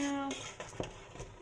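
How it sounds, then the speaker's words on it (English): Maggi noodles with ketchup stirred in a pan, a few light spoon scrapes and clinks against the metal after a voice fades out. "all I have to do is just keep stirring so you feel like a sous chef, and so it doesn't stick to the pan"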